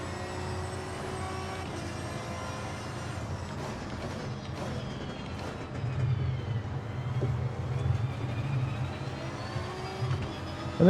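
Aston Martin race car engine in Assetto Corsa Competizione at Misano: a steady, droning engine hum with rising and falling whine as gears shift, growing slightly louder and deeper midway, with no talking.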